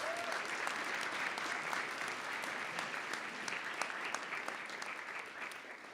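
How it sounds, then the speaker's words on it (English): An audience applauds steadily at an annual awards convocation honoring excellence, after the School of Business presentation. The clapping is a continuous, fairly quiet wash of many hands that holds at an even level for several seconds, with no voices over it. "So let's give them a applause."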